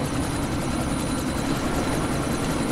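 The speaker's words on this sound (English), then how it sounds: "this is the helicopter right here." Helicopter in the video game Deus Ex: Mankind Divided, a steady, loud rotor and engine roar that stays constant throughout, dense broadband drone with no talk over it.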